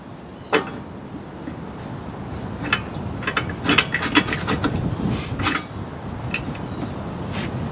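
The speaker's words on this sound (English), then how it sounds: "I can put my hitch carrier back in there." A hitch carrier slides into a hitch swing and is pinned in place, giving sharp metal clunks and clicks with some scraping and rattling, close and fairly loud, and no one speaks.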